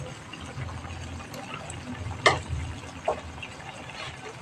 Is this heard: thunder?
no